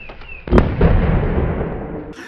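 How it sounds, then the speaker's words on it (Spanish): A homemade dry ice bomb bursts with a loud sharp blast, followed by a long rumbling, crackling tail that slowly fades over about two seconds, with no talking. "Tú sabías que era fuerte la explosión, pero no tanto"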